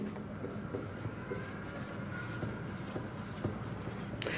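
Pen writing an insurance entry on paper during an accounting lesson, a steady continuous scratching at moderate level with no speech over it.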